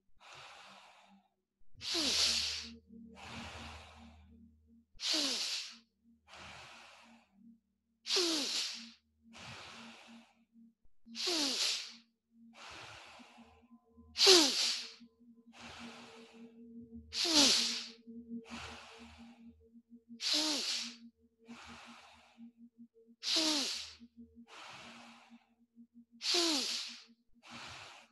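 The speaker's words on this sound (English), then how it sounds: "Keep on breathing." Slow, deep breaths during a kriya meditation exercise, each forceful airy exhale or inhale rising and fading in a steady rhythm about every three seconds, close and clear, with a faint low hum beneath.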